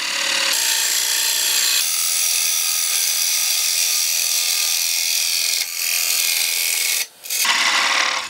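Lathe tool cutting an Australian hardwood platter, a steady loud hissing scrape that runs continuously with a couple of brief breaks as the cut stops and restarts.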